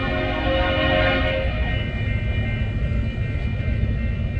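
A manifest freight train heading east out of Council Bluffs rumbles steadily nearby in Missouri Valley, Iowa, its horn sounding as a sustained chord over the first second and a half before the rolling cars carry on alone.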